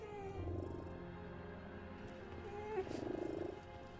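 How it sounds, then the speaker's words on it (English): A cat-like beast in the video game Solateria purrs with a low, steady rumble that pulses more strongly near the end, layered under a dense game soundtrack and ambience. "Am I hearing a cat purring?"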